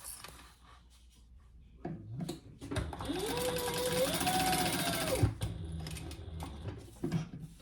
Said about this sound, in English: we're gonna sew down here as well